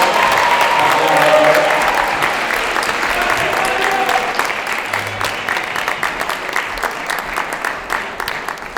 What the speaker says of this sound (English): How about a round of applause for food services and facilities?